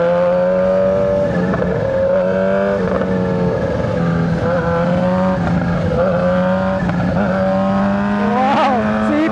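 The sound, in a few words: Kawasaki ZH2 big bike accelerating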